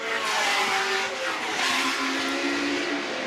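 Vintage race cars at a members' meeting head into a chicane, a loud continuous roar of engines with revving, shifting pitch and passing surges, near and dense, without voices.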